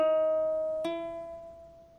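A single ukulele note rings, then a second, higher note sounds from a hammer-on without a new pluck at the attack, both sustaining and fading slowly, no voices.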